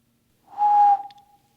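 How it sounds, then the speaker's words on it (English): A single faint, steady whistled tone rises, holds for about half a second, and trails off thinly inside an old haunted jail, with breathy hiss around it and no voices. "That sounds like an actual whistle."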